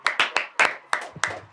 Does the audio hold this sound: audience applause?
yes